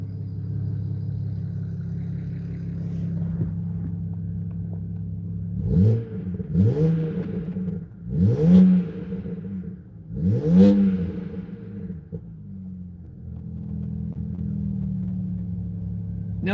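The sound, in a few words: car engine revving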